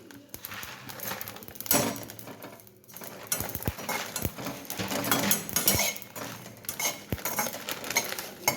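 Eight to ten black peppercorns drop into a pan of spice mix for a Brahmin-style goda masala, and light pattering clicks and metallic rattles follow as they are stirred, close and fairly soft.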